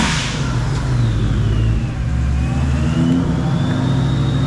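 A GT-swapped Cobra with side-exit exhaust, solid rear axle and a Gen 5 Whipple supercharger revs hard close by, its engine note rising and falling in a loud, continuous roar with no voices.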